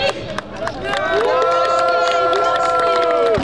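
A loud crowd roars and cheers continuously at a 2024 parade in Tarnowskie Góry, Poland, with a swelling chorus of voices and scattered shouts over dense background noise.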